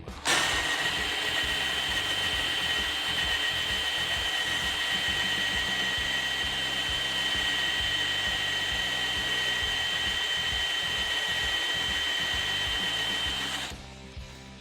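DeWalt 18V brushless hammer drill at speed 1 boring a hole with a 54mm Forstner bit, a steady loud whine with a fixed pitch that runs unbroken for about thirteen seconds and then stops abruptly.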